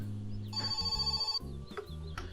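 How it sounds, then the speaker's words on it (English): A telephone rings in the My Summer Car video game, a loud electronic bell repeating in quick regular bursts with steady tonal layers and brief pauses, heard alone without talk. "And the phone's ringing."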